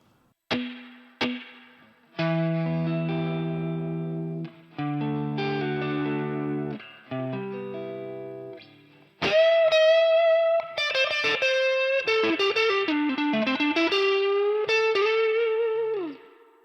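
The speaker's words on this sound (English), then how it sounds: "Let's add more reverb." An electric guitar through a reverb pedal set to heavy reverb plays plucked notes and chords that bloom and trail off, then moves into a sustained single-note lead line with a long, washing tail.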